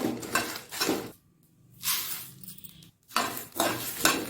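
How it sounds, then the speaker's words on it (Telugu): Spices and coriander seeds fry in a pan over a low flame, heard as close bursts of scraping and rattling stirring separated by short quiet pauses, with no voices. "ధనియాలు వేసుకున్న తర్వాత మరో టూ త్రీ మినిట్స్ అయితే ఇలా ఫ్రై చేసుకోవాలి"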